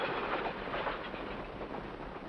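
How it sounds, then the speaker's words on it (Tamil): A train arriving on a railway rumbles faintly and continuously at a distance, a soft broadband roll with no voices. "கிழக்க வர ரயில் கூட வந்துருச்சு."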